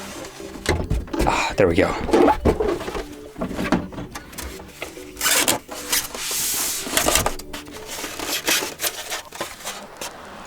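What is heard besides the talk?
opening a Thrustmaster T.Flight Full Kit X box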